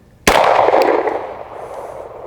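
A single pistol shot fired at a target's head on a range, the sight a Cyelee Wolf X red dot. The crack is sharp, close and loud, with a long ringing decay and no voices.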